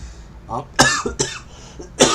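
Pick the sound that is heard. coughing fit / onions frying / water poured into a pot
coughing fit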